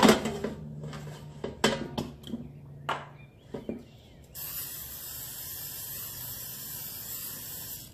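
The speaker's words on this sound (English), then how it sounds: "First I will spray my air fryer." Kirkland canola cooking spray hisses into an air fryer, starting with several short bursts and handling clicks, then one steady continuous spray lasting a few seconds, close and clear.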